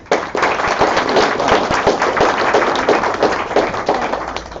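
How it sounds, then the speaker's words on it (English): An audience at a lecture greets the speaker with applause, loud and close, with individual sharp hand claps standing out in a lively, uneven patter that fades slightly near the end. "Let's give her a round of applause."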